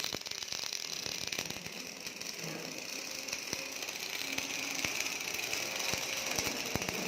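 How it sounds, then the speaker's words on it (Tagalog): An automatic robotic gas welding machine runs in a factory, giving a steady mechanical hum and hiss with irregular ratcheting clicks and taps throughout, fairly close and continuous. "umiikot yung machine niya. Hindi na kailangan ng tao."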